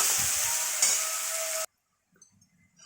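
Chopped onion frying in a pan for an egg curry gives a steady sizzling hiss that stops abruptly partway through, followed by near silence with a few faint kitchen clinks.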